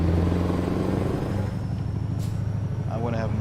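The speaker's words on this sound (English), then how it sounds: "I want to have more engine sound though" A Scania 730 V8 truck engine in Euro Truck Simulator, pulling a heavy load, gives a steady low rumble throughout, with talk over it.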